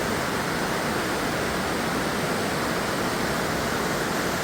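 A clear, cold mountain river in the Himalayas on the way to Manali rushes under a bridge; a dense, constant roar of flowing water fills the scene evenly from start to finish, with no voices.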